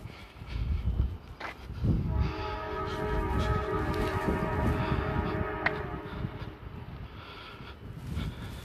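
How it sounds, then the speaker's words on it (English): A train passing through a small town rumbles and rattles steadily for several seconds, with a sustained tonal horn-like drone layered over the heavy rolling noise at close range. "Here's the train that fucks everybody in town."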